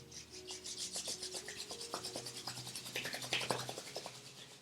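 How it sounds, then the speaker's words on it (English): Palms gently rubbed together during winter yoga breathing practice, a soft, close, continuous swishing friction in rhythmic strokes with no talking. "Gently rub your palm together."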